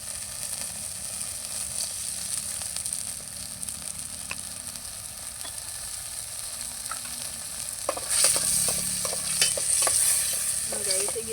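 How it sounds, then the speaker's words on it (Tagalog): Mushrooms sauté in a pan for pasta, a soft steady sizzle and stirring that grows louder and busier partway through, with scraping strokes of the utensil standing out near the end. "igisa lang natin siya ng bonggang brown"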